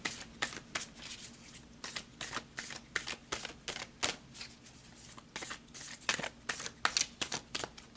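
Tarot cards being shuffled up close, a quick steady series of crisp papery slaps and riffles filling the whole stretch, moderately quiet over a faint background hum, with no talking.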